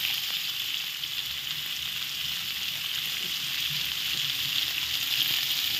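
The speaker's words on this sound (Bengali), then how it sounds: "এখন আমি তেল গরম আছে, আলুগুলো ভেজে নেব।" Potatoes fry in hot oil, a steady even hiss of sizzling that holds at moderate loudness throughout, with no talking.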